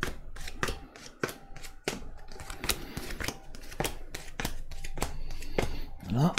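Tarot cards dealt one by one onto a table for a reading, six laid in a row and then covered twice, making crisp snaps and slaps in a quick uneven rhythm, close and clear under quiet background sound.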